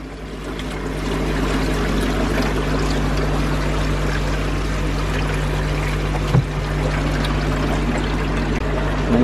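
Water steadily pouring and refilling a Nexus pond filter after the pump is restarted, a continuous close rushing gurgle over a low hum, with one brief knock partway through.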